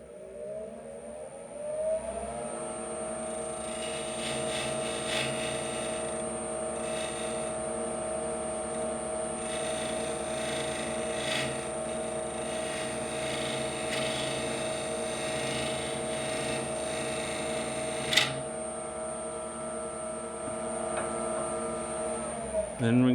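A wood lathe spins steadily while male threads are cut into a turned wooden piece, producing a continuous droning hum with a sharp click near the end and no talking.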